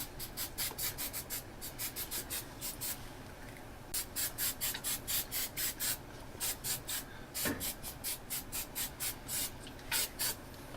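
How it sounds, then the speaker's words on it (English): Hairspray is sprayed onto a 3D printer build surface in a rapid series of short hissing bursts, with a brief pause in the middle before another run of quick sprays, close and alone. "whenever you spray the hairspray, don't be putting it in your face or on any of the bearing surfaces"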